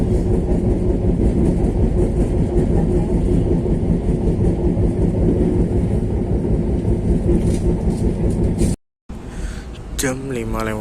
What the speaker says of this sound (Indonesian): kereta api Wijaya Kusuma telah tiba di stasiun Kalisetail